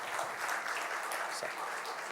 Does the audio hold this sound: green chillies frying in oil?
no